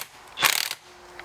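A ratchet clicks in a quick burst of several pawl clicks while tightening the top mount nut on a Lexus IS250 shock absorber, with the coil spring seated in compressors; close, fairly loud, then quiet.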